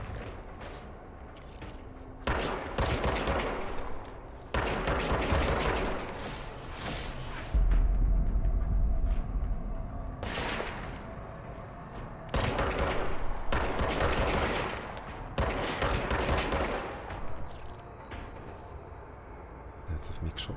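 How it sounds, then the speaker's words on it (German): Video game gunfire in Control. Repeated bursts of rapid shots come and go over about twenty seconds, separated by short lulls, with voices talking alongside. "Der hat auf mich geschossen, das ist ja wild."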